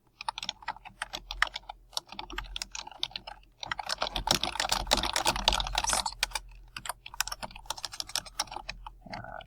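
Rapid typing on a computer keyboard, close by, with bursts of clicking keys separated by brief pauses and a busier flurry in the middle.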